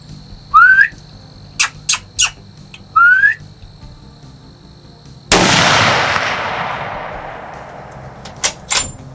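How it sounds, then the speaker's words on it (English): A hunting rifle is fired at a deer, one sharp, loud crack with a long rolling echo through open country, preceded by bird whistles and a few knocks, with faint birdsong after. "we just shot at I think it was an 8-pointer"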